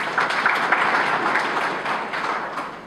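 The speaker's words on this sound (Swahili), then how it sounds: "Naomba tumpigie makofi" Audience applause at an official signing ceremony in Geita for a new modern bus terminal: a moderately loud, steady patter of clapping from a seated crowd, slightly fading at the end.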